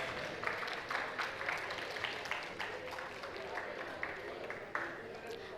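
Sustained applause from an audience at a skit and drama event, steady dense clapping with a few louder bursts, continuing throughout with speech-like crowd noise mixed in.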